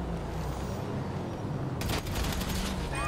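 Silenced weapon fire in the video game GTA 5, a rapid burst of muffled pops after a stretch of steady background game noise, loud and close.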